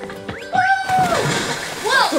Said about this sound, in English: Alright, I'm going in the water.